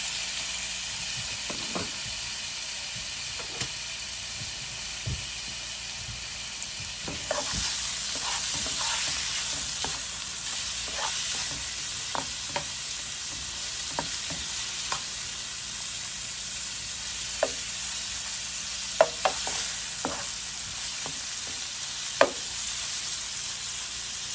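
Shrimp sizzling in a hot pan with olive oil for homemade tacos, a steady close hiss lasting throughout, broken by occasional clicks and scrapes of stirring.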